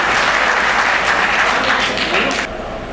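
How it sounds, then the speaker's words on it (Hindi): Loud, dense applause from a crowd at a community workers' gathering, sustained for a couple of seconds before dropping off abruptly. "उनका भी आप लोग ज़ोरदार तालियों से इस्तकबाल कीजिए"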